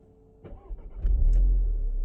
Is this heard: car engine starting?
yes